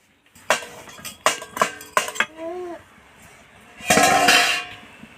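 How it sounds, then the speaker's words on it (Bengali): A metal lid comes off a cooking pan during an egg recipe: a few sharp metallic clinks and knocks in quick succession, a brief pause, then a louder clattering scrape as the lid lifts away. "এবার আমি ঢাকাটাকে খুলে নেব"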